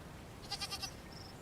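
A goat in The Forgotten City gives a short, quavering bleat of about four quick pulses, fairly faint against quiet ambient background, followed by a brief thin tone.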